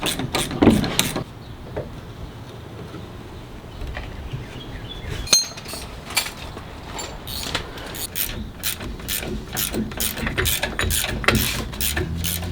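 On a truck, a ratchet loosens the rear shock absorber nuts, giving close, repeated clicking in uneven bursts over a workshop background, with a few metallic clinks.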